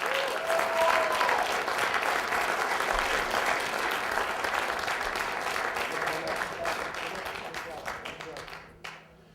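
Warm audience applause at a college elevator pitch competition awards ceremony, loud and sustained for about eight seconds before tapering off and cutting out near the end.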